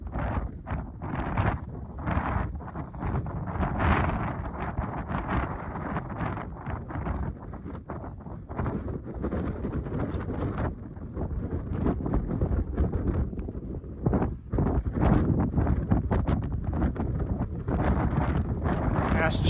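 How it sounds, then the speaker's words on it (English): Strong coastal headwind roars and buffets into the microphone of a cyclist riding along the coast, a loud continuous rumble with gusting surges throughout, and a voice is heard talking under the wind noise. "Brutal headwind along the coast."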